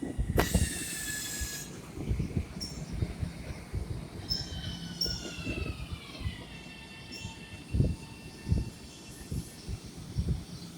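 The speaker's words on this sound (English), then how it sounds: "there's the train to Babylon" An LIRR M7 electric train to Babylon passes at a distance, with high wheel squeal, a tonal whine sliding downward, and intermittent clanks and rumbles over faint background.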